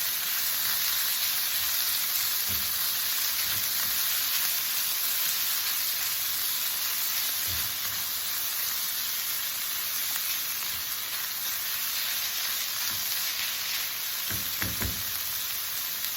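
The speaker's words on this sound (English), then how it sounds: "we're now going to add the veggie meat and give it a stir" Veggie meat frying in a pan makes a steady, loud, hissing sizzle throughout, with a few soft knocks from stirring, close by and with no talk.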